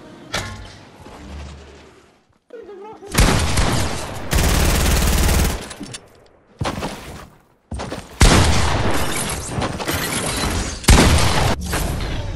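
Video game gunfire comes in loud, dense bursts of rapid automatic shots separated by short pauses, with mechanical clicks and creaks between volleys and no voices over the shooting.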